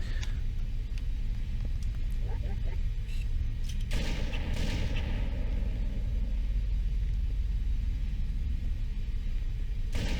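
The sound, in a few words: gunfire in a Halo video game fight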